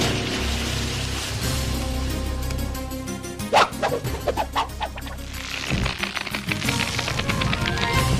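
Several dogs bark in quick, uneven bursts over a busy, cartoonish backdrop of music and effects, the yaps growing louder partway through.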